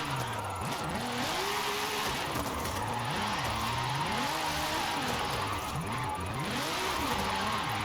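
A car engine drones steadily while being driven hard through gear changes, its pitch repeatedly rising and falling with acceleration and lifting off, loud and constant throughout with no clear talk.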